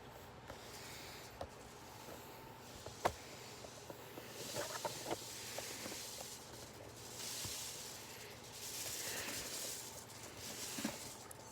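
A homemade rain stick tipped back and forth, a steady hissing patter of small grains cascading inside, swelling and fading in waves with a few sharper clicks.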